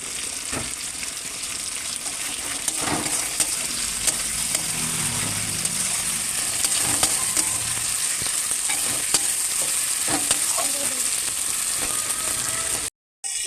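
Tomatoes sprinkled with salt fry and sizzle steadily in a pan, with intermittent scraping and stirring over a constant frying hiss that runs nearly the whole time, broken by a brief dropout near the end.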